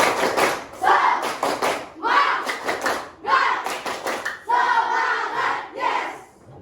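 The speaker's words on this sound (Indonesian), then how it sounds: "Kita melakukan tepuk semangat dan salam PPK. Tepuk semangat." A school class claps in a quick rhythmic pattern in several bursts, with voices shouting along between the claps, loud and close.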